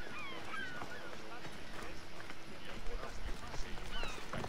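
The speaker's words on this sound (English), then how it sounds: "Not the horse that we seek." Horse hooves clip-clopping in a video game, a rapid run of soft hoofbeats at moderate distance, joined by honking goose-like calls, with a person talking over it.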